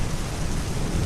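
Steady ambient rain pours with a continuous low thunder rumble underneath, loud and dense throughout the short stretch with no voices.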